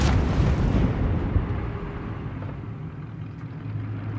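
Gunfire and explosive booms from Call of Duty: Modern Warfare (2019), a heavy blast opening into a sustained low rumble with scattered sharper reports, loud and close.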